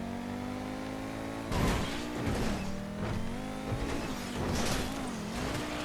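A Pegassi Osiris supercar in GTA 5 revving with a steady high engine whine, then scraping and roaring with bursts of tire and impact noise as it rides along a wall, loud and close.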